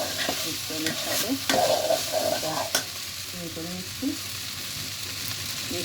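An onion mixture is stirred and mixed in a sizzling pan, with repeated close scraping strokes of a spoon over a continuous frying hiss, louder in the first half and then settling.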